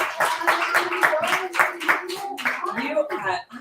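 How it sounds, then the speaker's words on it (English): Applause at a children's science show, a few sharp rhythmic hand claps, close and fairly sparse, trailing off within a few seconds. "Can we all give Professor Knowledge and Lexicon a big round of applause?"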